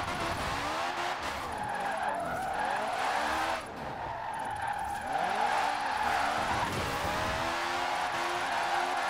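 A Citroen 2CV drifting, with its tires squealing and skidding in long wavering whines over a steady engine drone that continues almost without a break.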